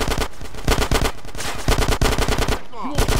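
Rapid bursts of gunfire from the video game Grand Theft Auto: San Andreas, loud repeated volleys of shots crackling in quick rhythm throughout, with a brief game voice near the end.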